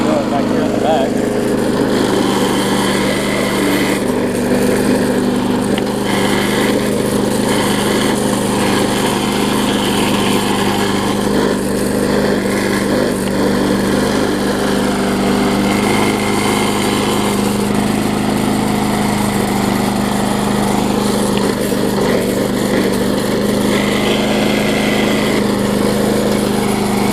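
A Bolens self-propelled lawn mower engine runs continuously at a steady, buzzy drone throughout, up close, with someone talking over it at times.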